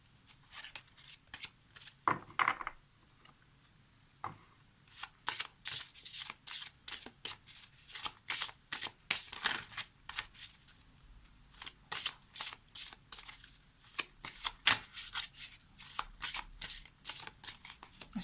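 Tarot cards are shuffled by hand in repeated quick riffling bursts, close and crisp, running steadily with short pauses between flurries and no talking.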